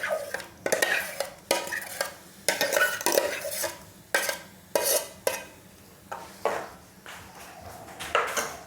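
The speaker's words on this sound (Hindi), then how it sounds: "हम गैस पर कढ़ाई रखेंगे और इसमें हम ये प्यूरी डाल देंगे पकने के लिए।" Mango puree cooking in a kadhai over a gas flame, stirred with a spatula that scrapes the pan in a steady rhythm of short, close strokes, clearly audible, with no talking.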